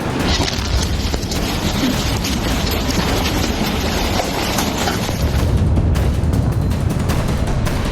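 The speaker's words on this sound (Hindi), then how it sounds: "ब्लास्ट इतना तेज था कि मलबा कई फीट आसमान तक उड़ गया" Rumbling blast from an airstrike hitting a building in southern Beirut, with debris flung high into the air; a dense, loud, continuous roar of rubble and noise lasting throughout, with a heavier low surge near the end.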